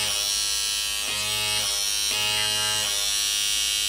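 A handheld blackhead pore vacuum suction device gives a loud, steady electric buzz. The pitch dips and rises in a repeating pattern as it runs, with no voices.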